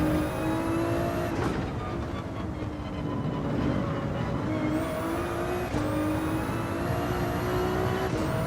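A racing car engine in Gran Turismo 7 drones and revs continuously, pitch rising and shifting with gear changes, with brief whooshes of other cars passing.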